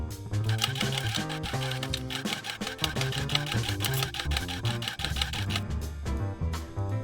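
A sewing machine runs steadily around the edge of a small fabric wallet, stitching outer and lining fabric together with a 1 cm seam allowance. The rapid, even needle rattle plays under background music without speech.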